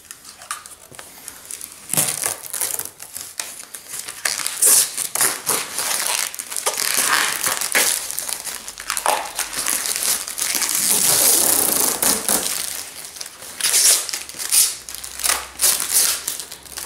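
Protective plastic film is peeled off an arcade cabinet panel in a workshop, giving steady close crinkling and crackling with short tearing bursts and small handling clicks.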